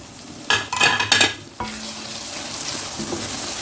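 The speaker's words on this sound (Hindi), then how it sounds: "इसको अब हम थोड़ा सा टमाटर को भून लेते हैं जी।" Tomato and ground spices frying in a pot: a burst of metal stirring and scraping clatter, then a steady hiss and sizzle that carries on alone to the end.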